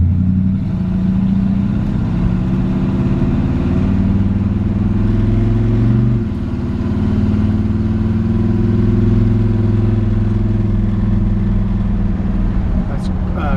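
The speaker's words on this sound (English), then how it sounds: "Got a nice aggressive mean sounding engine." 1956 Ford F100 truck driving with a loud, steady, aggressive engine drone that rises and falls through smooth gear shifts, heard up close from inside the cab.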